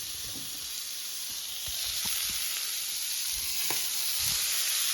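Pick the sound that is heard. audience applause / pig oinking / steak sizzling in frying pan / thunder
steak sizzling in frying pan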